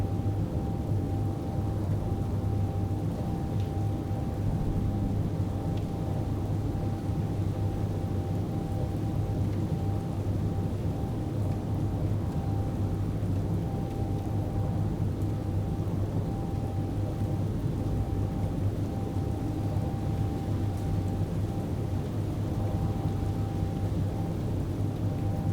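Rain and rolling thunder in Space Engineers form a continuous dense roar with a steady low rumble throughout, loud and unbroken.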